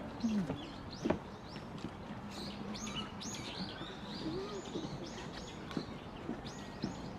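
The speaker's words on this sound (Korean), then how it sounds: "이거 새소리가 너무 좋다" Birds chirp and tweet repeatedly at moderate distance, with soft cooing and faint background voices.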